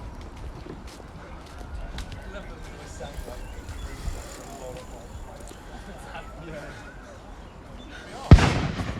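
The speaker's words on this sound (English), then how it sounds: "That's the 5-minute gun." The five-minute starting gun fires at the Summer Eights rowing races on the river in Oxford: a single sharp bang near the end, over a soft, steady outdoor background murmur.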